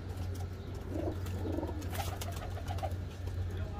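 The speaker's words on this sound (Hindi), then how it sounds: "दो कबूतर हैं" Teddy pigeons cooing softly over a constant low background hum, several short, muffled coos in a loose, irregular rhythm, with no talking.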